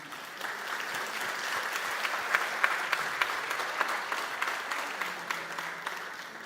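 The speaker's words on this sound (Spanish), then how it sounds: "Vamos a aplaudirlos otra vez, una vez más" A festival audience at the World Harp Festival in Asunción, Paraguay, claps in sustained applause, a dense wash of many hands with some sharper individual claps standing out, moderately loud and steady from start to finish.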